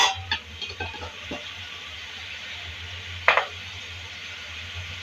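Prawns go into a hot pan and sizzle as they are stirred, with a few scraping clicks of a spoon against the pan over a steady low frying hiss.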